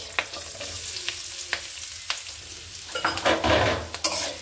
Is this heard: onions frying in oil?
yes